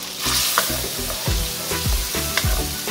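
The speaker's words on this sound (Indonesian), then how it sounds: "Ini kita tumis sebentar" Lemongrass, galangal, bay leaves and lime leaves sauté in hot oil, a steady sizzle broken by several quick spatula scrapes and stirs, close up with no talking.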